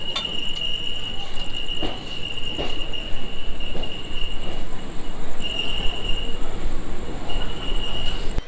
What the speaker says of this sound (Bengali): এখন ছেড়ে দিয়েছি বর্ধমানের 5 মিনিট হল্ট শেষ করে, এরপরে আমরা পৌঁছাবো পানাগড়।